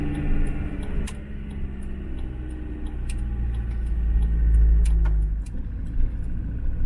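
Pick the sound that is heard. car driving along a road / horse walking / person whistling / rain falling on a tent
car driving along a road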